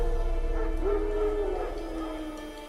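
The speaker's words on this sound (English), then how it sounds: "Wild dogs. Yes. More dangerous than wolves." Wild dogs bark and whine in The Witcher 3 video game, a short rising yelp over steady low game ambience with a faint voice underneath.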